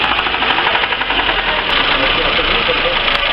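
A Lifan diesel engine with a knocking fault idles steadily and loudly nearby, with a rough, knocking rumble and a few faint clicks.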